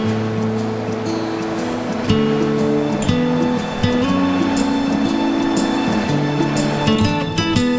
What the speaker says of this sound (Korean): 바위를 타고 시원하게 흐르는 물소리를 들으며 잠시 힐링의 시간을 가져봅니다